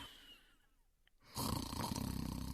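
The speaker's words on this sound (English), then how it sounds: "He is snoring in his bedroom." A man snores in a bedroom, a story sound effect: after a quiet, breathy lead-in, a loud rasping snore begins and rattles on steadily to the end.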